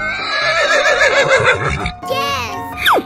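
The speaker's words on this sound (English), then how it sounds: "Horse." A horse neighs in a long, wavering whinny, followed by a shorter rising neigh; loud and close, with a voice briefly mixed in.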